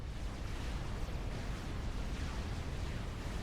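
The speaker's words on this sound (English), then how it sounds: "And that sounded like a nuclear explosion." A nuclear explosion in a naval warfare game produces a dense, sustained low roar, fairly quiet overall, rumbling evenly for several seconds with a small burst near the one-second mark.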